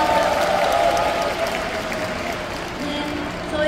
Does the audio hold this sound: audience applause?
yes